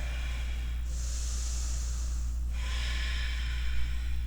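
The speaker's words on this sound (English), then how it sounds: "3 big breaths here" Deep, slow breathing during a vinyasa yoga flow, one long audible inhale followed by a breathy exhale, close and steady over a low constant hum.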